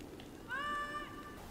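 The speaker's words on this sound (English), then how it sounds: "No, I'm hearing meow!" A single cat meow, clear and fairly close, rising and holding for about half a second over a quiet background, heard in the game Ico.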